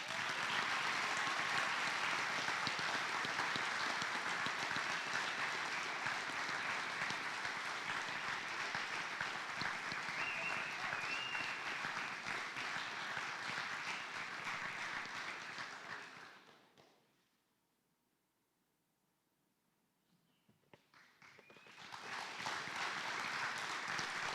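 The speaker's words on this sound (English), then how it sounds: "So big round of applause for Lily Runez." Audience applause in a high school auditorium at a special recognition awards night, a long sustained wave of clapping that fades into a brief quiet gap before a fresh round of applause swells back up.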